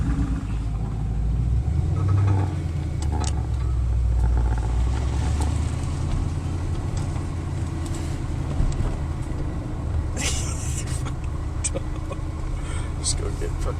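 A car rolls past on a road with a steady low engine rumble, near and fairly loud, as people talk over it.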